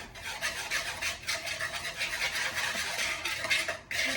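Stirring muffin batter studded with chocolate chips in a bowl, a steady scraping, clinking rhythm of utensil against the bowl, close and continuous with no talk.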